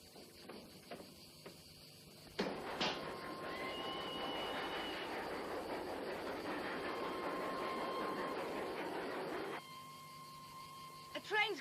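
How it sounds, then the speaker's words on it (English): A train rumbles in suddenly and roars steadily nearby for several seconds, with a high whining tone over it, then cuts off abruptly. "A train's coming. Gotta get out."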